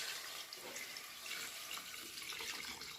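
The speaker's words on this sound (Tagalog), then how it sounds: "Sunod natin, lalagyan na natin tubig at palalambutin." Water pours steadily into a cooking pot, a constant hissing splash at fairly low level for a few seconds with no voices.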